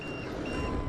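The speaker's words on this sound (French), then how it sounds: "C'est qui a fait bip bip?" Electronic beeping from a device during a first test of JConcept 3.8 wheels, a thin high steady tone sitting over a dense low rumble, continuous through the short stretch.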